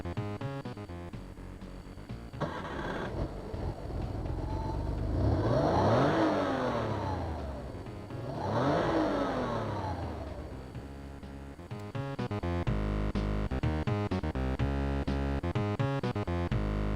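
Car engine revving in an Amiga video game, played on an Amiga 500, with synthesized engine tones rising and falling in two long sweeps amid busy chiptune-style game sound, fairly loud and steady.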